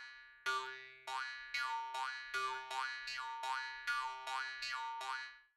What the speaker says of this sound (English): let's check out this contact plugin, Jaw Harp Murchunga.